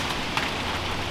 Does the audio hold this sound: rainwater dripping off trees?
yes